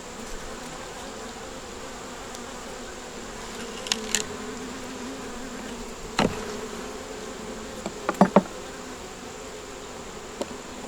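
Honeybees from a nuc hive with a deep box added, buzzing softly around the open frames outdoors, a steady low hum broken by a few brief louder passes of bees flying close, with no talking.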